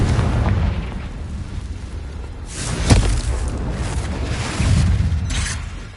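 A Confringo blasting spell goes off in Hogwarts Legacy, a booming explosive burst with a sharp crack near the middle, set against a dense, rumbling combat din.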